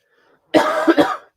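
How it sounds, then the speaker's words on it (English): One close, abrupt cough from a person recovering from illness, a rough burst with two quick follow-up pulses, after near silence. "I'm still a little like in a cough state"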